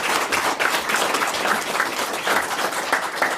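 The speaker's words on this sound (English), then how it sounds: "let's give a round of applause" A room full of people at a Murray City council meeting gives a round of applause, a dense and fairly loud burst of clapping that runs evenly for a few seconds.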